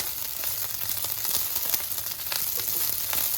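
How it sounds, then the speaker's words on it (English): Broccoli stir-fries in hot oil with a loud, continuous, crackling sizzle, close up and steady throughout, with faint stirring and no voices. "So I'll just stir fry my broccoli"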